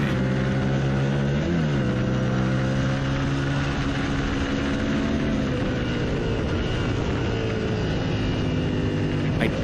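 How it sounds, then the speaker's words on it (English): Racing motorcycle engine at full throttle during an ASRA race at Blackhawk Farms, a loud sustained buzzing drone with pitch dropping and climbing through gear changes, another bike close behind. "I can also hear there's a bike right behind me."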